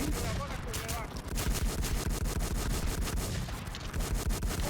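Dense, continuous gunfire from a shooter video game, fired at a window, with rapid overlapping shots running loud through the whole stretch.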